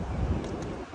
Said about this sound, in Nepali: यो हावा चाहिँ चिसो आएर छ